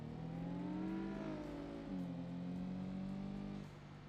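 Racing video game car modelled on an older Audi TT, its engine droning steadily and shifting pitch partway through, then dropping off near the end, with no talk over it.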